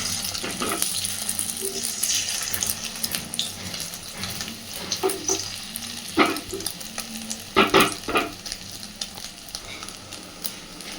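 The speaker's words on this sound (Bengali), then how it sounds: "তেল গরম হয়ে গেছে, দিয়ে দিচ্ছি ডিম।" Egg omelette fries in hot oil, a continuous close sizzle broken by several louder crackles and bursts of spattering, with no talking.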